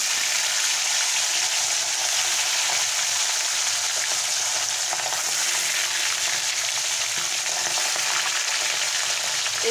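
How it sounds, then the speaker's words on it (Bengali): Hilsa fish pieces dropped one by one into hot oil for an ilish begun dish, giving a dense, continuous, loud crackling sizzle close by, with no voices over it. "এবারে মাছগুলোকে আমি একে একে দিয়ে দেব।"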